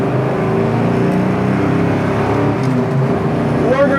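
Engine of a 1969 Camaro RS heard up close from inside the car while driving, a loud steady rumble with a rising rev near the end as it shifts.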